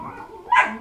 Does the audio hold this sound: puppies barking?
yes